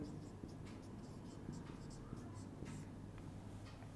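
Chalk or marker writing on a classroom board during a Hindi reasoning lesson, a run of short scratchy strokes throughout with a man's speech-like murmur underneath.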